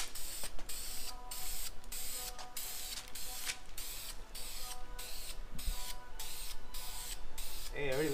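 Spray can hissing in repeated short bursts as coats of black paint go onto a custom mesh grille guard for an Accord, close and steady, with outdoor background noise.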